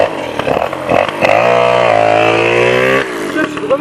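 A moped engine idling unevenly, rising and falling in pitch as it revs up and settles back, loud and close, with a sustained higher rev in the middle.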